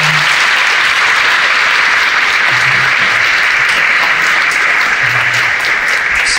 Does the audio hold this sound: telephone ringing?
no